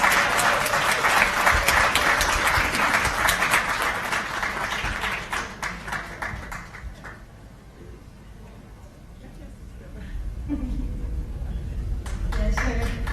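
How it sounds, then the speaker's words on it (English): An audience at a youth live event applauds the mothers during a raffle, a loud burst of clapping that thins and fades midway, then swells again near the end. "Yeah, let's clap for the moms."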